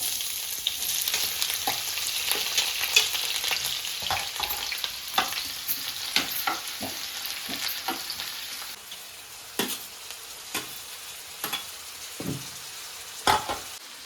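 Onion frying in oil in a pan for a spicy Agri-Koli crab curry (chimborichya rassa), a steady loud sizzle with scraping stirs and clinks throughout, settling slightly quieter toward the end.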